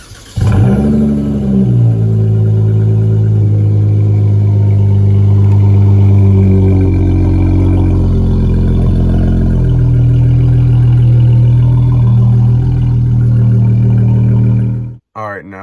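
Warm start-up of a 2019 Dodge Charger GT V6 with an aftermarket exhaust: a loud cranking catch and flare into a deep, steady idle rumble that holds close and continuous for about fifteen seconds, then cuts off abruptly.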